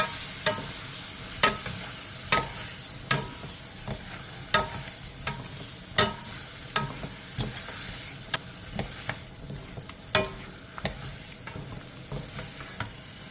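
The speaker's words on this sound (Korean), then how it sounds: "그 다음 순대를 넣고 2분에서 3분 정도 볶아주세요." Korean blood sausage (sundae) stir-fries in a pan, a steady sizzle broken by a regular series of sharp scraping clacks as the spatula tosses the pieces, close and without voices.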